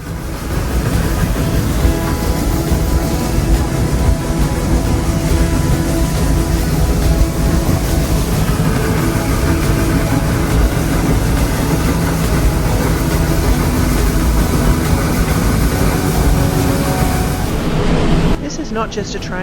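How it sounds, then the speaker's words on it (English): A West Coast Wilderness Railway train in Tasmania climbs the steep ABT rack section through rainforest, giving a steady, heavy mechanical rumble that holds loud and unbroken before dropping away just before the end. "as the train powers up the famous ABT section, you'll feel the difference, the steady mechanical grip as it climbs through ancient rainforest"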